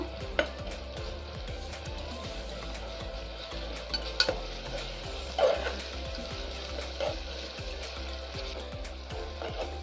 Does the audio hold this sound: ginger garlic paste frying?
yes